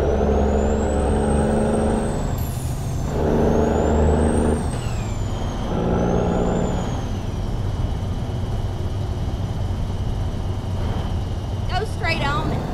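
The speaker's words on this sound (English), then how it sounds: "hear that turbo." Truck turbo whistle in American Truck Simulator, a rising and falling whine repeating three times over a heavy engine drone, with an air brake hiss near the end; a navigation voice speaks over it.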